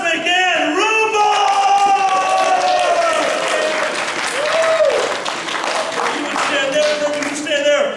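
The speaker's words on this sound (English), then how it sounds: "Guys, a round of applause for my co-hosts" An audience at a live improv comedy show breaks into loud, sustained applause for the co-hosts, with whoops and cheers over dense clapping throughout.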